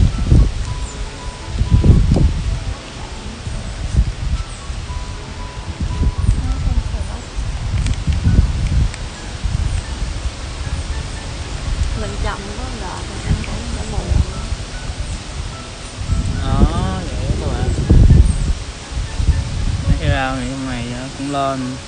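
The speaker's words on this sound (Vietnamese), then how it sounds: "Mưa sắp tới gió quá trời." Strong wind gusts rustle through the leaves of a home garden as rain approaches, a broad steady roar with swelling surges, while people talk intermittently over it.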